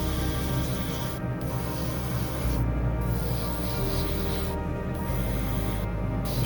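Spray paint hissing steadily as silver paint is applied to scale model parts of a Hoonicorn Ford Mustang, a continuous close airy spray with a few brief pauses and no talking.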